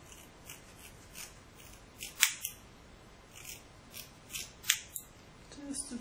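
Scissors snip repeatedly while trimming a lace front wig of beachy wavy hair, giving a series of sharp, close metallic cuts spaced unevenly over several seconds.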